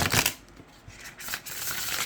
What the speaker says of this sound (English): Look at that riffle shuffle, of course.